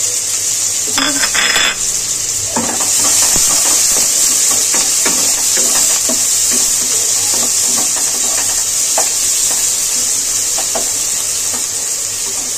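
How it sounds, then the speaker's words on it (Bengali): Chopped garlic and onion sautéing in hot oil, a steady loud sizzle running throughout with scattered clinks and scrapes of a utensil stirring in the pan. "একটুখানি রসুন কুচিয়ে রেখেছে আর পেঁয়াজ কুচিয়ে রেখেছে, সেটাই দিয়ে দেবে তেলের মধ্যে। এবার কি করবে বলো? এটাকে সতে করে নেব।"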